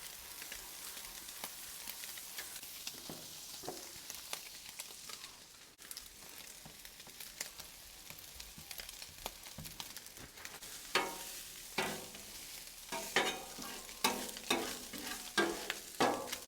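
Butter sizzles on a Blackstone griddle while bread for a carne asada torta is toasted, a quiet steady frying hiss broken by scraping and clatter that grows louder and more rhythmic toward the end.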